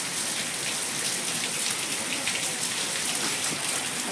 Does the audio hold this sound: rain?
yes